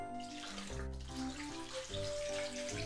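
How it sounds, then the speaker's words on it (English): Four cups of water pour steadily into a pot holding cabbage trimmings, onion and bay leaves for Japanese stuffed cabbage rolls, a continuous close splashing gurgle with shifting tones as the pot fills. "here I'm gonna put in 4 cups of water"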